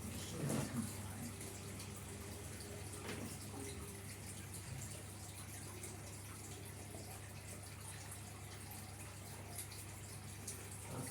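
A tap runs steadily into a bucket, filling it with water in a continuous, fairly quiet gush heard close by with no one speaking.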